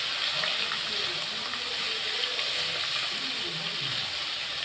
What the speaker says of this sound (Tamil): இதை ஒன்று ஒன்றா போட்டு பொரித்து எடுக்க போகிறேன்.